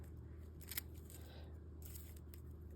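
Scissors snipping the excess rubber skirt of a homemade Wahoo fishing lure near the hook, a few quiet close-up cuts in two short clusters over faint background hiss, with no voice.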